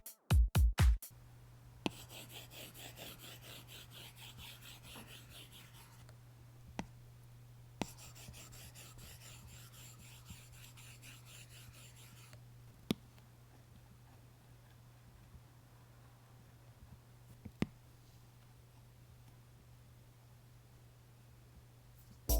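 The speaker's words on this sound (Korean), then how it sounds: "종이 질감 필름에 필기할 때 소리였어요." An Apple Pencil writes on an iPad fitted with a paper-texture screen film. Close, scratchy strokes come in bursts and stop for pauses, with faint taps between them.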